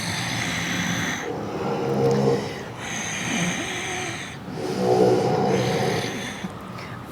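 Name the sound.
recording of a person snoring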